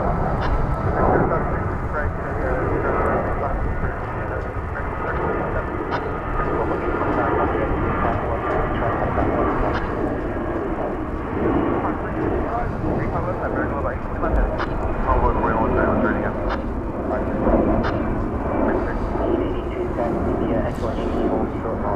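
An American Airlines jet takes off at DFW Airport with a loud, continuous broadband roar that holds steady throughout, while a person talks over it.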